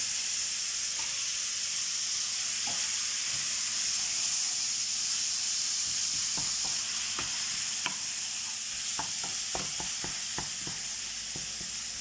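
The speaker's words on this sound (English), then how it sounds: "Now I'll chuck my onion in." Steady sizzling and hissing from onion frying in a hot pan for cottage pie, with scattered clicks and scrapes of stirring throughout.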